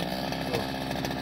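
A gas grass cutter engine being started, buzzing loud and steady with a raspy two-stroke whine throughout, close to the microphone.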